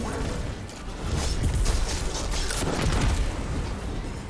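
A champion enemy blows up in Destiny 2, a dense rumbling burst with crackling debris and mechanical clatter rolling on for several seconds, loud and close with no voices.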